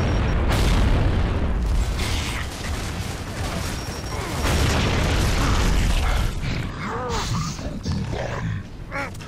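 A frag grenade blast in Gears of War 2 booms loudly near the start, followed by sustained rumbling game noise and grunts throughout.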